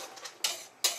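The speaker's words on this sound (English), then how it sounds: "Give it a mix." A spoon stirring potato soup in a metal pot, two sharp scraping strokes against the pot close up with soft wet swishing between them.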